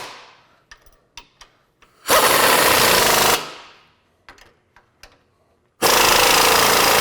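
A power tool tightening sway bar bolts and links during a lift kit install: two loud, sustained hammering bursts of about one and a half seconds each, separated by clanks and taps of metal parts.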